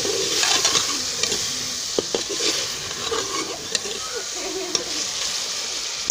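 Chicken shorba masala frying in a pot with a little added water gives a steady wet sizzle and bubbling throughout, with a few sharp clicks of stirring over the constant hiss.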